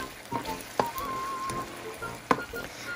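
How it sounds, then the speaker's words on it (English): Squid simmering in a pan, a soft steady sizzle with a few sharp scrapes and clinks from stirring, close and alone without voices. "You have to stir, stir it very well and cover it and then simmer"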